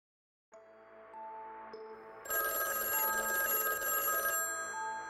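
A telephone rings as a sound effect in a mystery podcast promo, starting with a soft tone, then a loud bright electronic ring pulsing for a few seconds before fading back, with no voices.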